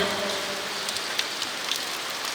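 Steady rain falls outdoors at night, a dense even hiss with scattered louder drops landing on nearby surfaces.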